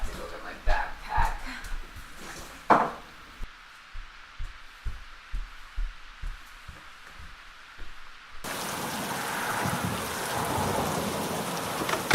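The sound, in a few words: heavy rain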